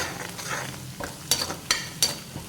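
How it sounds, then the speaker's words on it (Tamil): Tomato and onion sautéing in hot oil for a spicy prawn fry, a soft sizzle under a few sharp scraping strokes of a spoon stirring the pan, close and moderately quiet. "தக்காளி வெங்காயம் வந்து இந்த எண்ணெயில் வந்து நல்லா வதங்கட்டும்."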